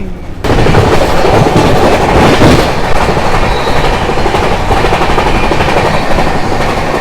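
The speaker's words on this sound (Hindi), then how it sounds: "हमारी ट्रेन कभी तेज़ चल रही है कभी एकदम क्रॉल करते हुए चल रही है" Chennai Rajdhani Express rolling along at speed, a loud, close, steady rumble with rattling clickety-clack from the wheels that begins abruptly and carries on without a break.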